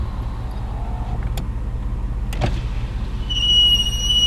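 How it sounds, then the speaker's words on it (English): A power window on a 1996 Chevy Blazer 4x4 whirs as the glass moves, a thin motor hum over steady engine and road rumble inside the cab, ending with a high squeaky whine. "Put my window down over here again."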